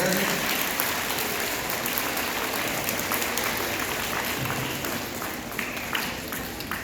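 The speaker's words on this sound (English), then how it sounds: "Go ahead and clap if that's right here." Junior high students in a school assembly break into sustained applause, a dense wash of many hands clapping at once that continues steadily with some scattered voices mixed in.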